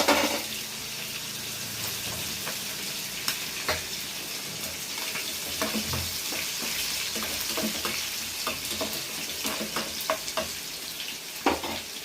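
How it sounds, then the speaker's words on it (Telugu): Half an onion frying in oil for Nellore-style korameenu fish curry, a steady hiss of sizzling with scattered stirring clatters and scrapes throughout, close and fairly loud with no talking. "వేగినాక ఉల్లిపాయ సగం గడ్డ"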